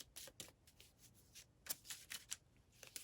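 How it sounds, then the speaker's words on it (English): Crisp riffling and slapping of tarot cards being shuffled, several quick bursts in uneven rhythm, close and fairly soft with no talking. "that was such a weird shuffle"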